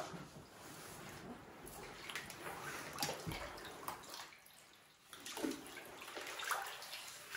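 Water splashes and sloshes as a monitor lizard is bathed and swims in a shallow tub, irregular wet movements and drips up close, with quieter stretches between the bursts.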